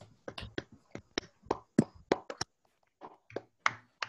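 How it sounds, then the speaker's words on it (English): Scattered, uneven claps from a handful of online participants at the close of a physics talk, sharp and close, overlapping loosely for about four seconds with no voices. "just please unmute yourself and give a clap for him"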